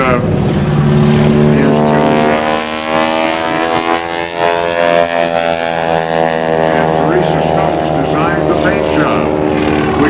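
A propeller aerobatic performance plane, flown by Gene Soucy at the 2004 NAS Oceana airshow, drones loudly and steadily with shifting engine tones throughout, while a voice talks over it.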